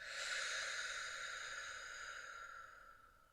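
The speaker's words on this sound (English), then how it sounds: "Full deep breath out." A long, deep exhale during a yoga breathing exercise, a steady airy rush that fades gradually over about three seconds, close and fairly quiet, with no talking.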